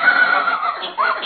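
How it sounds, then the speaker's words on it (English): A horse whinnies loudly and nearby in a children's farm-animal guessing game, one long shaky neigh that tails off and then rises again in a second short burst, heard alone with no talking. "I am a horse."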